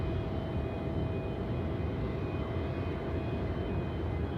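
A Cathay Pacific airliner at Melbourne airport at night gives a steady, unbroken jet roar from a moderate distance, with no voices over it.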